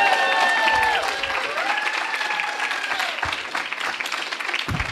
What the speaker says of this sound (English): And a rousing applause for Sofia Boutella making it.